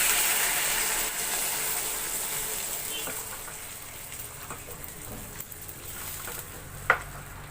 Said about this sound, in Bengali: জলটা দিয়ে দেওয়া হবে।